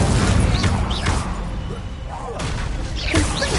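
An Incendio fire spell is cast in the Hogwarts Legacy video game, with bursts of crackling, booming combat effects under a steady bed of game noise. A voice speaks over the action.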